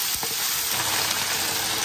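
Hotpot base, scallions, ginger and garlic fry in hot oil with a dense, steady sizzle and a brief clatter of stirring near the start, close by and without talk.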